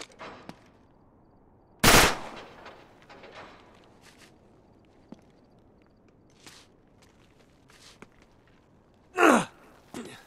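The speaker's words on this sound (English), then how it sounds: "Back up, I'll shoot the lock." A gunshot fired at a lock in the action game Uncharted 3 cracks loudly and briefly, followed later by a second sharp blast, with footsteps and faint movement between.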